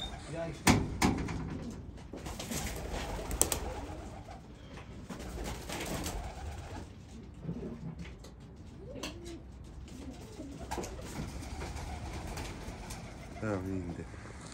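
Pigeons coo softly amid outdoor ambience, with a few sharp clatters and flutters; people talk at times in the background.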